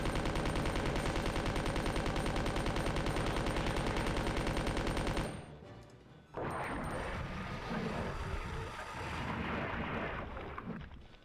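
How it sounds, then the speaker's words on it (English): Sustained machine-gun fire in Resident Evil 2 (1998, PlayStation): a dense, rapid, unbroken rattle for about five seconds, then a brief drop before a heavy rumbling roar of combat noise continues. "machine gun, and let him have it. Just keep firing until he drops"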